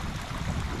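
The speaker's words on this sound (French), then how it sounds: "Là il y a le petit ruisseau et tout" A small mountain stream flows through a fir forest in the Alps with a steady, continuous babbling rush, fairly close and even in level throughout the short clip.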